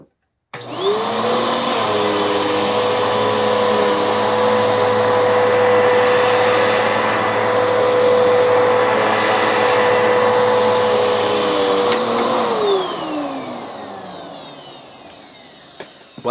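A Bissell vacuum cleaner runs steadily on carpet edges, a loud continuous motor whine with a rising start and a falling spin-down near the end, with no talking.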